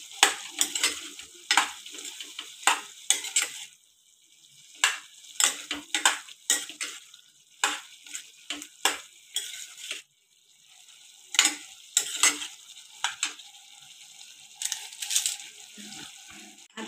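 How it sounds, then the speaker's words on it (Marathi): A spoon stirs chicken pasta in a pan after soy sauce and vinegar go in, giving repeated scraping strokes in bursts over a soft background sizzle, close and fairly loud, with no talking. "आता त्याला मिक्स करू।"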